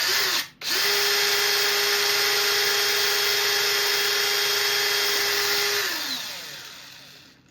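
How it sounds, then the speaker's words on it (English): A power drill boring holes into a cork mount, starting after a brief stop-and-restart and then whining at a steady pitch before spinning down, close and loud with no talking. "So we need 2 holes. Nicely drilled, so we'll go for one about here."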